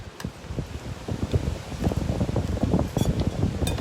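Strong wind gusting outdoors during cooking, a rough continuous rumble and buffeting against the microphone, rising and falling in bursts with no talk.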